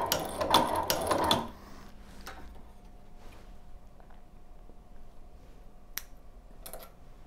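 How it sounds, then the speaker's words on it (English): A Chinese leather shoe patching sewing machine winds its bobbin, opening with a loud mechanical whir for about a second and a half, then settling into quiet clicks and faint intermittent ticks. "we can just turn and load our bobbin. Keep a little bit of tension on the thread as it's winding up."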